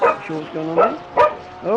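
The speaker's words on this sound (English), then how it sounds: "excuse my dog." A dog barks several times in short, loud bursts near the microphone, with a whining yip at the end, over someone talking on a voice call about a Porsche.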